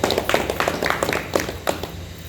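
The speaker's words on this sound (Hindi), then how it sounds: "ताली बजा दो" Scattered audience clapping at a devotional gathering, uneven claps of moderate loudness close together, brief and loose rather than a full ovation.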